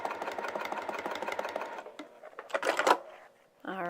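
A sewing machine top stitching a vinyl project bag with a long stitch, a close rhythmic clatter for about two seconds, then handling noises and a voice at the end.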